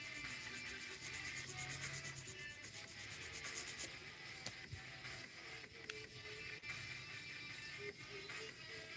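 A nail file rubs quickly and steadily against the edge of a fingernail. The rasping strokes are faint and close, with no talking.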